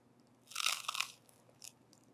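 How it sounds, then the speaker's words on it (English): A close, crisp crunch as a crispy steak bite is bitten, followed by a second smaller crunch, with quiet chewing and no talking. "Hear this crunch."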